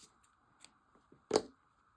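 A single quick snip of scissors cutting a yarn tail on a knitted Christmas wreath, soft and close, preceded by faint light handling rustles in a quiet room.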